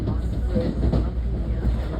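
An NJ Transit train with an ALP-46A locomotive in Pennsylvania Railroad livery rumbles past close by, a steady low roar with faint rhythmic clatter throughout.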